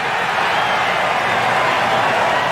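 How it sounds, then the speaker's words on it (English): A broad, steady crowd roar from the golf video game PGA Tour 2K21 at TPC Scottsdale fills the whole stretch, loud and continuous, with a distant cheering quality and no clear voices standing out. "we're starting to hear roars from another part of the course."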